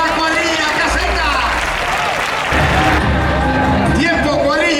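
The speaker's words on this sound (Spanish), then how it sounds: "un fuerte aplauso a la cuadrilla caseta" Loud audience applause and crowd noise for a team at an outdoor roscaderos contest held in casetas, a dense rush of clapping mixed with babble and a few shouts, with an announcer's voice heard over it.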